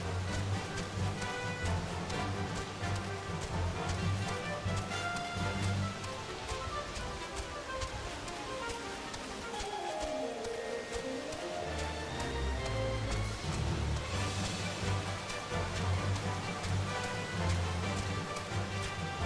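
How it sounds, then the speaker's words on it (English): Heavy rain falls steadily in a dense, constant wash of drops, spattering on a surface throughout with no breaks, fairly quiet overall with no talking. "It's a lot of rain."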